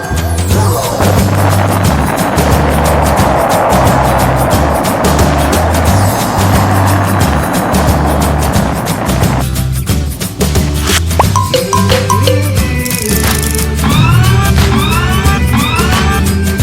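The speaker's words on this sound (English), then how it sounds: "Space shuttle." A toy space shuttle plays its electronic sound effect: a loud continuous rumbling roar that shifts midway into beeping tones and bright rising chirps, all close and without speech.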